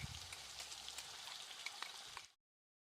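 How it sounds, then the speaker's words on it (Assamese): Onion, ginger and garlic paste frying in oil in a pan for an Assamese pigeon curry, a soft steady crackling sizzle that cuts off abruptly near the end. "এইখিনি এতিয়া ভালদৰে আমি ভাজি ল'ব লাগিব,"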